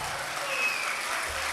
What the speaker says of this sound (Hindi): एक बार मिल के तालियां बजाइए